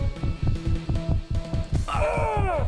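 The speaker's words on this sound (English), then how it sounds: "Is that my bad heart beating?" A steady, throbbing heartbeat thumps in a DOOM wad, a fast, regular pulse of low beats that keeps going throughout, with a brief bright sweeping effect rising over it near the end.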